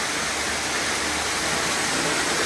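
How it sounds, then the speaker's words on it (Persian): A waterfall at a crocodile park pours in a dense, unbroken roar of rushing water, loud and steady throughout the short stretch with no voices. "بسیار یک احساس خوب داره که شرشره او صدایش آدم میشنوه."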